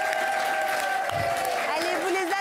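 A studio audience claps in a steady burst of applause that runs the whole time, with a melodic tone and a voice heard over it.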